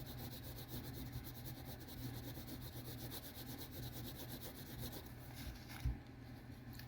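A pencil scratches and shades steadily across paper while a storyboard artist draws a cat, a soft continuous rubbing up close with a small knock near the end.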